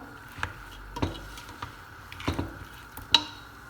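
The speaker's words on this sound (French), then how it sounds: "غادي نزيدو العطريه ديالنا كلها مره واحده وغنخليو هذا الشيء يتقلى واحد شويه" Spices frying in a pan for a lentil dish, giving soft sizzling with intermittent stirring scrapes and taps of a utensil against the pan, a few sharper clicks near the end.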